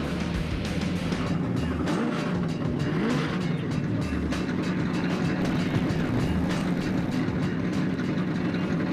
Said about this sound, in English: Coco waves the green flag. The second annual Speed Channel 5-miler is underway